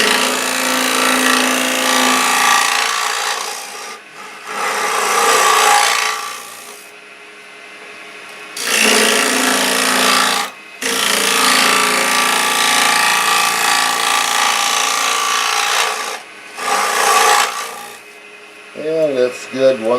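A scraper rounds out a hollow in wood with repeated long rasping strokes, each lasting a few seconds and separated by brief pauses, close and fairly loud, ending with a few quick scrapes.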